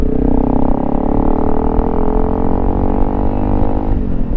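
A Honda CRF300L Rally motorcycle engine pulls steadily under throttle in third gear on an off-road trail, a loud, continuous droning note that rises gradually in pitch before easing off near the end.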